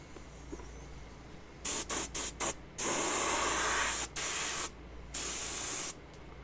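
Spray paint applied in a second coat to a Megaman helmet: several short hissing bursts, then longer sustained sprays, loud and close with pauses between, over a low background hum and no talk.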